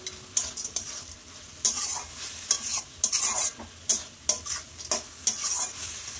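Grass pea greens cooking in a pan with lentil dumplings are stirred in a steady rhythm of scraping strokes, each pass clear and close over a faint sizzle.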